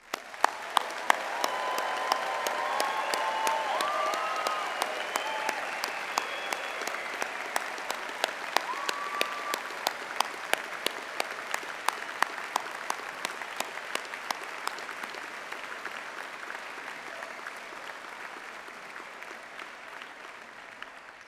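Sustained applause from a graduation ceremony audience at a university Faculty of Management event, many hands clapping steadily for about twenty seconds, fading slightly toward the end.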